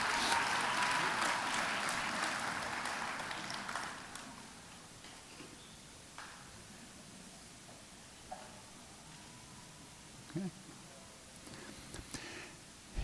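A community college commencement crowd applauds steadily in a large hall, the clapping strong at first and then thinning out into scattered claps and faint noise.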